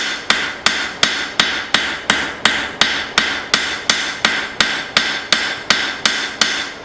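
A cross peen hammer strikes steel forged from an old file, about fifteen loud, ringing blows in a steady, even rhythm, each with a short decaying ring, close up with no talk.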